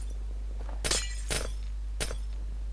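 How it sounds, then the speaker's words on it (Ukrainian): Three sharp glassy cracks of a pickaxe breaking ice blocks in Minecraft, spaced about half a second apart, crisp and close over a steady low background hum. "На, це лід, ця кирка розбиває просто неймовірно"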